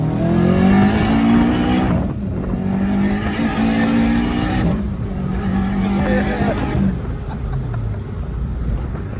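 A turbocharged 2006–2011 Honda Civic accelerating hard, heard from inside the car. The engine drones and climbs, drops briefly at two gear shifts, then pulls again. The sound is loud and continuous, with a voice briefly over it.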